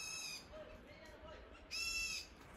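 Birds calling in a deep jungle at dusk, giving faint, tonal, harmonic cries in two short bursts, one at the start and a louder one near the end, over a quiet background.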